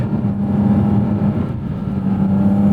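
Porsche 718 Cayman GT4 RS engine in PDK Sport mode, a steady, loud, near drone heard from the cabin as the car accelerates, with no voices over it.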